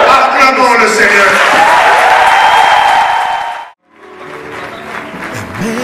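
A church congregation claps and cheers loudly for the Lord, the dense applause fading out abruptly partway through, then a quieter stretch of room sound with faint voices and music.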